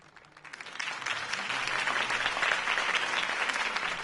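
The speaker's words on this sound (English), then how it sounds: "If only Mr. Wayne, my campaign's largest backer, could have heard that applause" Applause from a crowd in the video game Batman: The Telltale Series swells quickly and holds steady, a dense wash of clapping that fills the few seconds without any voices on top.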